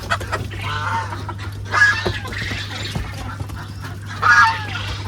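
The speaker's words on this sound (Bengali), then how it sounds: "এই যে মুরগি রয়েছে" Chickens cluck in short bursts on a poultry farm, with several birds of mixed varieties calling nearby over a steady low mechanical hum.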